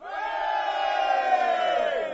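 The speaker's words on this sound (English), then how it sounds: "The men cheer." Crowd of men cheering together in one sustained, loud roar of raised voices that holds steady for about two seconds before easing off.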